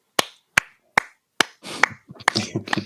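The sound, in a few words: slow clap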